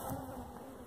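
Honeybees buzzing around a row of beehives in February, a steady, faint droning hum heard alone for a moment.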